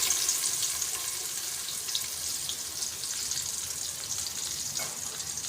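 Ground paste of shallots, coriander and mint sizzling in hot oil for biryani, a steady close hiss of frying filling the whole stretch with faint crackles and no talk.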